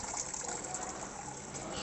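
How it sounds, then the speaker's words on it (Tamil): Water gushes into the wash tub of a Panasonic 6.5 kg semi-automatic washing machine, a steady, even filling hiss that continues throughout with no voices. "இப்போ நான் அதில் மீடியம் அளவுக்கு தண்ணி நிறைக்க போகிறேன்"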